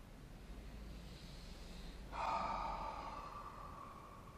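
Slow steady breathing during a breathing exercise, a soft airy flow that swells into a longer forceful exhale midway, close and quiet, no talking.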